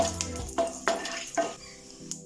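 Whole cardamom pods, cloves and black peppercorns fry in hot oil in a pan for malai chicken handi, a steady sizzle broken by several scraping stirs of a spoon against the pan, close and clear.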